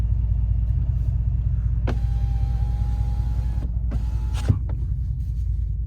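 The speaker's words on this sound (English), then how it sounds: "Let me crack the window open for you guys." Car power window motor running with a steady whine as the window opens, heard over the low rumble of the engine and road noise inside the car, with a few clicks at start and stop.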